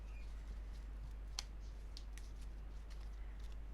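Tarot cards shuffled by hand make faint, sparse clicks and soft snaps over a low, steady hum, with a few sharper taps spaced irregularly.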